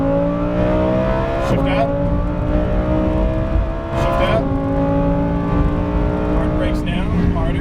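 A Lamborghini Huracán Performante accelerates hard around the Las Vegas Motor Speedway track, its engine note rising loud and steady with sharp dips at each upshift, while an instructor talks over the roar.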